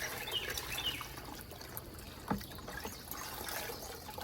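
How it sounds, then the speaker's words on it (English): Water poured into the top of a GreenStalk vertical planter trickles down through the stacked pockets, a soft continuous dribble and splash heard close up, with one brief louder knock partway through. "It'll just keep trickling down."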